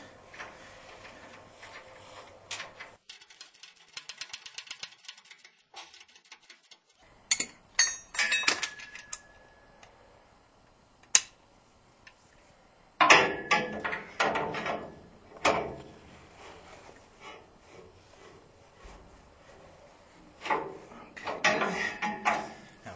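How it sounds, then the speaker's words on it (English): Metal hardware clinks and taps as a lock washer and bolt are fitted to a rear mono leaf spring on a 1947–1954 vehicle, with scattered sharp clinks, short clattering bursts and quiet gaps. "Now we're going to put our lock washer on and our bolt."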